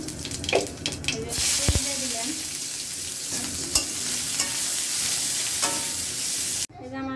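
Cumin seeds dropped into hot oil for dal, giving a loud close sizzle that sustains for several seconds, with a few clatters of utensils and a brief voice in the background before it cuts off abruptly.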